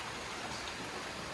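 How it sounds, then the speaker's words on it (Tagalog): Heavy rain pouring down, a dense, unbroken hiss of drops hitting surfaces that fills the whole moment at a steady, loud level. "grabe ang ulan."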